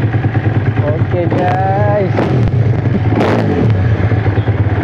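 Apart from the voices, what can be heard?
motorcycle engine running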